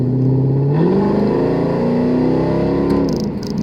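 A Mercedes W204 C63 AMG with a roughly 545-horsepower engine revs loudly up close, its deep V8 note climbing in pitch and holding before easing off.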